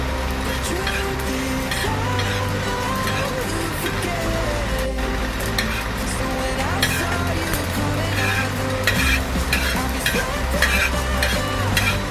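Cumin and whole spices crackle and sizzle in a hot pan while a utensil stirs and scrapes steadily, with a low hum underneath throughout.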